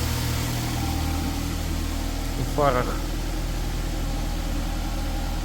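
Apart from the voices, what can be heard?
car engine idling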